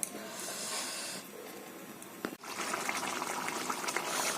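An egg curry bubbles and simmers in a pot with a steady watery hiss and gurgle, briefly interrupted by a sharp knock midway before the boiling resumes more fully, close and moderately quiet with no speech.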